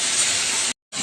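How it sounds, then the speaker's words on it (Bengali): Bhola fish frying in a pan, a dense close hiss of sizzling oil that cuts off abruptly near the end and returns briefly, with no talking. "মাছ ভাজা হচ্ছে, ঝাঁজ লাগছে।"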